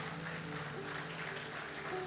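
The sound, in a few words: applause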